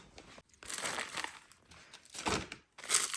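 A plastic shipping bag crinkles and rustles as a returned item is stuffed back into it, in several close, loud bursts separated by brief pauses.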